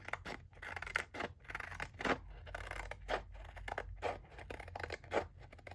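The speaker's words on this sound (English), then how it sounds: "That is okay because we have scissors." Scissors snip through paper at a crafting table: a series of close, crisp cuts, roughly one per second, each with a short papery scrape.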